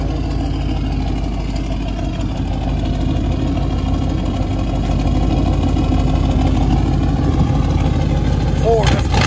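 A 1989 Ford F-250 with a 7.5L gas V8 and true dual straight-pipe exhaust idles loud and close, a steady deep rumble with voices talking over it.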